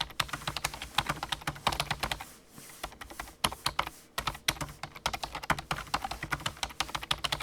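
Rapid clattering keystrokes on a computer keyboard, close and steady across the stretch with a brief slower patch midway, and no voices.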